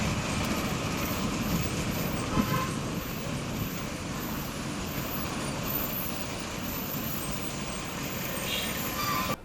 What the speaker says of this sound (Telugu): మెర్లపాలెం నుండి మన బస్ ఇప్పుడే బయలుదేరింది